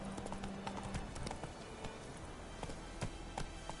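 Horse Roach galloping in The Witcher 3, its hooves landing in a quick, regular clip-clop beat that stays fairly quiet under a busy game soundscape.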